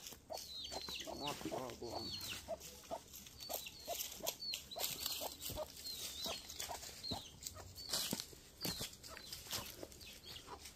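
Several local chickens cluck and squawk close by, with repeated short calls and some wing flapping over steady outdoor background noise.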